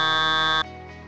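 A synthesized buzzy tone from a DOS sound program holds steady and bright, then drops abruptly to a duller, voice-like drone, heard alone and close.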